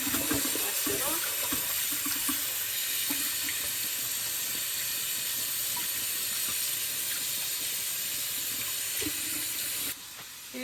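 Tap water runs steadily into a kitchen sink while food is washed with lime for Haitian spaghetti, a continuous close hiss with faint clinks and handling noises underneath.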